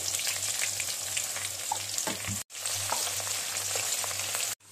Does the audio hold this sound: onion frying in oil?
yes